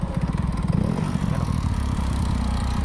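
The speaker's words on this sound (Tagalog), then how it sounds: "Lumalagitik ang kanyang motor." A Yamaha Mio i 125 motorcycle engine running close by after a tune-up, with a rapid, steady mechanical ticking clatter riding over its low idle throughout.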